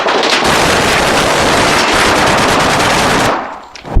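Suspect's gunfire in police footage: a loud, sustained burst of rapid automatic shots lasting over three seconds, dense and continuous, then breaking off into a brief lull and a final shot.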